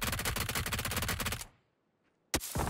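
Rapid automatic gunfire from a PUBG battle royale match on the Rondo map, a dense burst of close, loud shots lasting about a second and a half, then silence before another sharp volley erupts.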